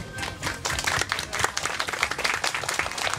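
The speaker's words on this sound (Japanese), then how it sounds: "皆様再度盛大な拍手でお迎えください。" An audience at an ethical fashion show and talk event in a historic site park applauds to welcome guests, with full, continuous clapping of moderate loudness and no voices on top.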